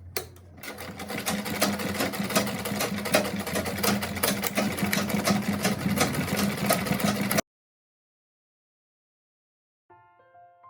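A sewing machine runs a continuous basting seam on a make-up bag with zipper and lining, a fast even motor whir for about seven seconds before stopping abruptly, then a faint brief knock.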